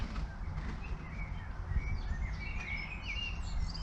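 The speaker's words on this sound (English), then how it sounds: "that blackbird's very chipper." Bright, warbling blackbird song drifts in above a steady low rumble of wind and outdoor noise, with several fluid phrases rising and falling.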